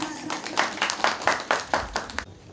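Applause at a Vietnamese wedding ceremony welcoming a representative of the groom's family, heard as a series of loud, evenly spaced claps close by that stop abruptly at the end.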